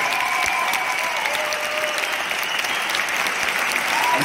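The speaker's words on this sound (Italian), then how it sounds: "Facciamo un applauso a Piero Di Blasio." An audience claps steadily throughout at the Teatro La Fenice in Senigallia, a dense and even wash of applause with no gaps.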